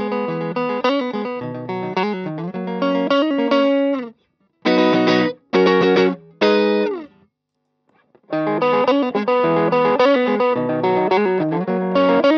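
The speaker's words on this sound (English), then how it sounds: "I'll show you what it sounds like going straight into the amp first" A clean electric guitar plays chordal riffs straight through an amp, broken by short stabbed chords and brief silences before the riffing resumes.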